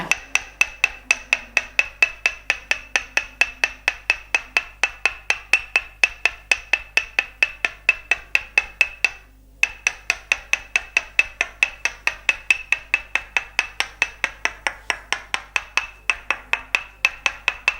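A wooden hammer and peg tap muscles during a Northern Thai tok sen massage of a person lying face down. The close, crisp knocks come in a fast, even rhythm, with one brief pause midway.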